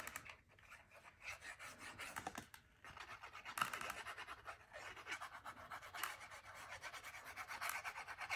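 Glued paper burnished onto a vintage-style envelope flip album cover, giving soft, close, rapid rubbing and scratching strokes that continue quietly with no talk.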